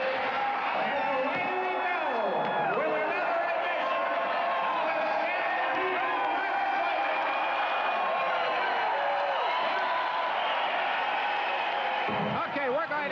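A packed wrestling show crowd at Stu Hart's 50th anniversary event roars steadily in a large hall, a thick continuous wash of cheering voices with whoops rising and falling, no clear break over the whole span.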